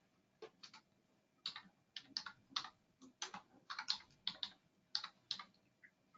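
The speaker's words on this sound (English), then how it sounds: "Let me see if I can type this in." Typing an address on a computer keyboard during a map search, with faint, fairly steady bursts of light keystrokes and no one speaking.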